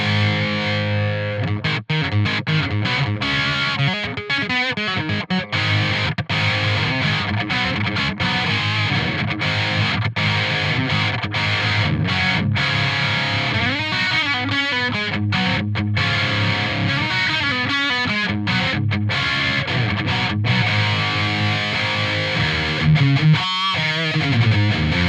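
Mid-gain distorted electric guitar through a Mesa amp and a cabinet impulse response, playing a continuous riff of chugging chords and single-note runs at steady loudness for about 25 seconds, with no talking.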